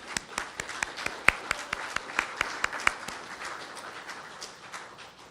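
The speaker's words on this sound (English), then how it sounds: "let's give you a round of applause, our Regional Hall of Fame past honorees" Banquet guests at a regional Hall of Fame dinner applaud past honorees, a few distinct close hand claps in a loose rhythm over softer scattered clapping that thins out and fades toward the end.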